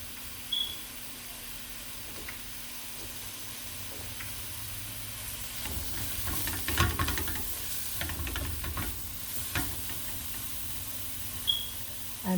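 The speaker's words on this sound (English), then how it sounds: "So you can hear the sizzling." Chopped leek sizzling steadily in a hot frying pan, with soft scraping bursts as it is stirred, the frying hiss continuous and close throughout.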